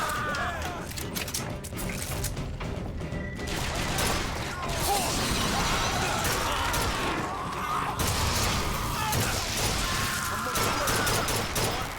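Gunfire in Bioshock Infinite: dense, continuous volleys of shots and mechanical clatter rattle for the whole stretch, loud and close, with game voices partly buried underneath.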